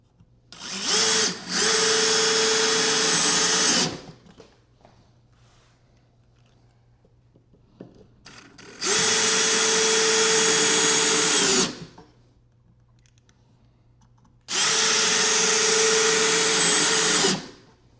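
A power drill drives screws into a small wooden cleat on a swarm trap, in three loud, close bursts of steady whirring lasting about three seconds each, separated by quiet pauses.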